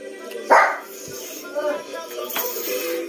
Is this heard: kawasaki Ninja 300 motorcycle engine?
no